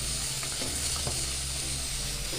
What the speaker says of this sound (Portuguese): você coloca o caldo, olha, ele já faz um barulho, ele já quer evaporar